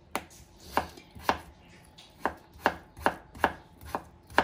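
A knife chops carrots into small pieces on a cutting board, giving crisp, evenly spaced thuds at a steady rhythm, about ten strikes, close and distinct with no talking.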